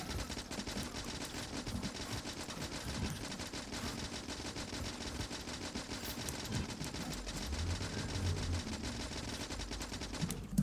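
Sustained automatic gunfire from Factorio turrets or weapons clearing a biter base, a dense continuous rattle of rapid shots with no pauses, steady and moderately loud throughout.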